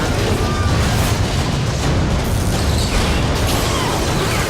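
IMS munitions explode in the video game Call of Duty: Ghosts, a sustained, loud, noisy barrage of blasts and crackling bursts throughout.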